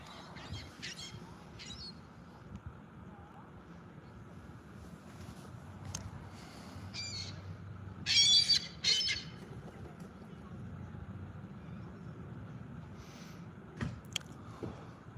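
A bird squawks near a fishing dock, several harsh calls that come in short bursts, the loudest pair in the middle, over a low background rumble and quiet ambience.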